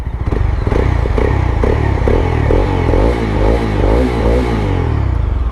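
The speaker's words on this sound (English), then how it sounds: "Do you hear that bassy exhaust note?" A 2021 BS6 Mahindra Mojo 300 motorcycle revs repeatedly close up, its deep, bassy exhaust note rising and falling in quick throttle blips over a steady idle.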